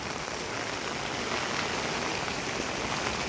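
Steady rain falls outside, a dense, even hiss of drops with no pauses and no voices.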